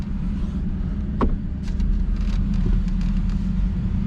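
A V8 2020 Chevrolet Colorado backs up, its low steady engine rumble droning close by with a few faint clicks and knocks over a dull drive-by hum.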